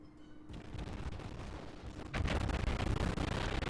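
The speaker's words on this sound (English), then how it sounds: "I unleash another volley into him" Warship naval guns firing a volley in World of Warships, heavy booming blasts with rumbling, crackling tails, the second salvo louder and denser, close and unaccompanied by talk.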